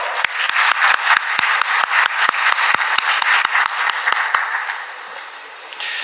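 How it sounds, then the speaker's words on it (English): A crowd at a student conference claps steadily in a warm round of applause welcoming a guest, with sharp individual claps standing out, fading slightly toward the end. "please welcome him with a huge round of applause"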